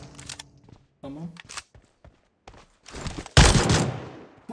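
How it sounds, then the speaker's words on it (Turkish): A loud cannon blast booms in PUBG Mobile, following scattered clicks and brief bursts of voice, its rumble trailing off. "Top sesi."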